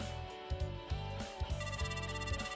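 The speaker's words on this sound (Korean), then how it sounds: "그 후 나는 오랜만에 형한테 전화를 걸었다." An outgoing phone call rings on the line, a repeating electronic ring tone in regular bursts with short gaps, clear and alone.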